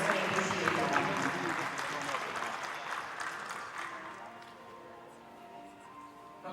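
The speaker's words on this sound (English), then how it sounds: "Let's have a round of applause for those sponsors" An audience at a dairy show applauds steadily in a broad clapping wash that stays strong at first, then slowly thins and fades over several seconds.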